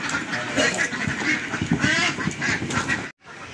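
A flock of ducks quacks loudly and continuously while being herded outdoors, dense overlapping calls up close, cutting out briefly near the end.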